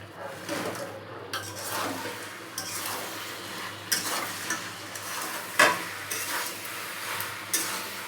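Fried fish roe is stirred into a pan of chili sauce, giving soft sizzling with repeated scraping and clinking of a spoon against the pan in an uneven rhythm, close and moderately quiet, with no voices.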